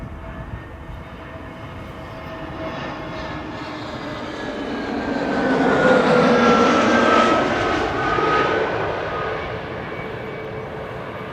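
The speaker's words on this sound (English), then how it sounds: "the Transavia arriving from Bari is getting close by" A Transavia airliner arriving from Bari approaches Schiphol, its engine roar swelling from a distant hum to a loud, close whine with Doppler-shifting tones, then easing slightly as it passes.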